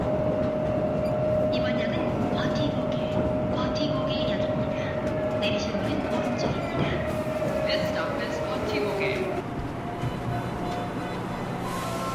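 A subway train rumbles along steadily with a sustained high whine and rattling, heard from inside the car; faint voices mingle with the noise.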